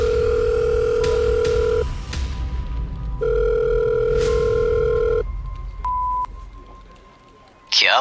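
A mobile phone places an outgoing call, and two long ringback tones sound loud and close, separated by a pause. A brief electronic beep and a faint click follow.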